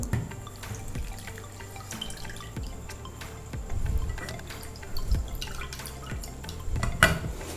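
Pandan water puree for chendol jelly is strained through a sieve, giving soft dripping and trickling liquid with faint clinks of kitchenware, steady and close with no talking.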